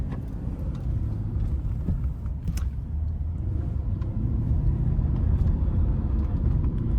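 A 2020 Mercedes-Benz SL550 driving, heard from the cabin as a steady, loud low engine and road rumble that holds constant throughout with a few faint clicks and no talking.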